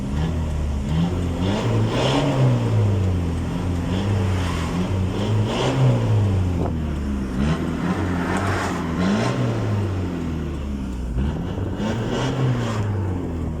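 Isuzu D-Max diesel pickup truck, once short on power and smoking black, revs after fuel pump tuning: repeated rising and falling engine surges, close and loud, in a steady pattern of quick throttle blips.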